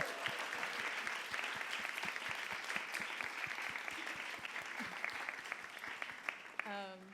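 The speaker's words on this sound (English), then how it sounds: "We'll just give a round of applause for Red Bay for having us here." A live comedy audience in Oakland claps in thanks to Red Bay, a steady run of crisp clapping with rhythmic emphasis that fades at the end as a voice begins speaking.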